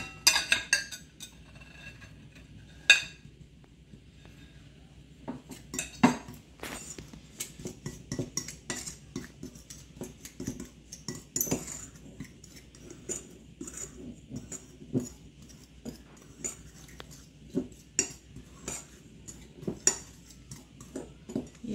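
A utensil scrapes and clinks against a bowl as cinnamon, brown sugar, white sugar and flour are stirred together for a bread topping, with irregular close taps and scrapes and no talk.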